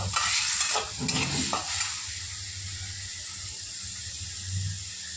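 Tomatoes sautéing in a pan for a village-style egg curry: a close, steady sizzle with a couple of bursts of scraping and stirring early on, then a softer continuous frying hiss.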